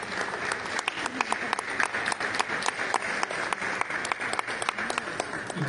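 Applause at a ministry reception for a traditional art and crafts collection, steady dense clapping from a seated audience that continues throughout with no voices on top.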